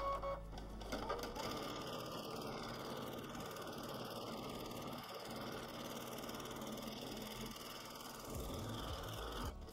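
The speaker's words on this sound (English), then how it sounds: "I'm going to stitch the little vase or our little basket at the bottom one square at a time, just sewing backwards and forwards" A sewing machine doing free-motion quilting on appliqué, a continuous close motor hum with fast needle chatter, steady throughout with a slight surge near the end.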